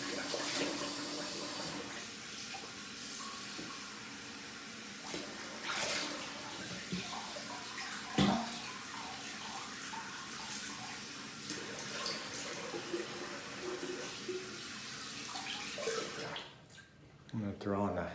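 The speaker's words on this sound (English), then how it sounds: "I'm gonna rinse with some cold water." A bathroom tap runs steadily for a cold rinse after a wet shave, the continuous splashing stream lasting throughout with brief interruptions near the end.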